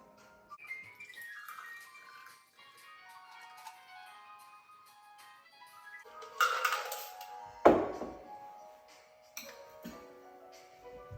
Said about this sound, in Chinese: 准备一个高球杯，将饮品呢过滤到高球杯中。